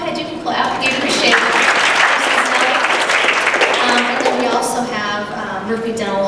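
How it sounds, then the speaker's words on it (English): Audience applauding a sponsor at a chamber of commerce luncheon, a loud, sustained burst of many hands clapping that swells and carries on for several seconds, with voices mixed in toward the end. "Yeah, go ahead, you can clap."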